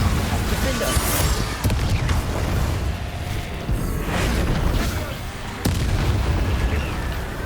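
Spell blasts and explosive bursts from the Hogwarts Legacy video game crash repeatedly in a dense, loud mix, with thumping booms layered over a constant rumbling game soundtrack.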